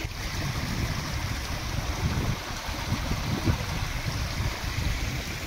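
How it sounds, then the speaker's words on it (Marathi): A small stream of water flows through a field channel at Bhandardara in rainy weather, giving a steady, close, continuous rushing and gurgling wash with no pauses. "हे बघा इथं पाणी वाहतंय, छोटंसं ओळ आहे इथं"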